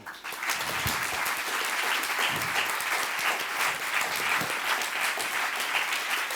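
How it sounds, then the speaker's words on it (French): An audience applauds award winners at a French prize ceremony, with steady, dense clapping throughout, sounding fairly close and broad. "je vous propose qu'on applaudisse une dernière fois l'ensemble des lauréats"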